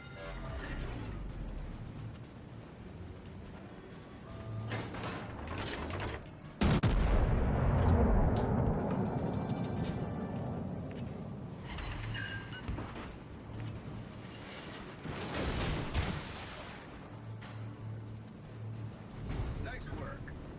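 Naval guns firing in World of Warships: Legends, heard as one sudden loud blast near the middle followed by a long rumbling decay, with smaller booms and game noise scattered around it and voices talking over the top.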